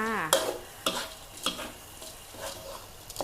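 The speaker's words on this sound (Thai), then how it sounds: "ไฟอ่อนค่ะ ผัดไปค่ะ" Rice with Chinese sausage is stir-fried in a pan over low heat: a spatula scrapes and tosses at a steady rhythm, about once every half second, over a soft sizzle, up close with no talking.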